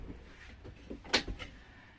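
A Jayco Eagle camper trailer door swings shut with one sharp knock midway through, set against quiet low background noise.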